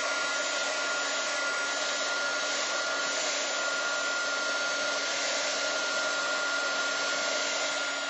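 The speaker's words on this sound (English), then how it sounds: "I like to use this little tool here. It is called an embossing gun or a heat gun." A constant, steady blowing whir of a heat gun drying paint on a canvas, running without pause, close by, with a faint tonal hum through it.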